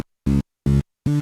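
Dreadbox Typhon synthesizer with noise added after the filter, three short buzzy notes in quick succession separated by silence, each with a hissy top, close and clean.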